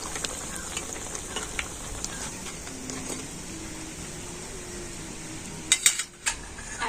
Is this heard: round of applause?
no